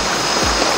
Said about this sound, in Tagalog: mas lumalakas yung agos ng tubig eh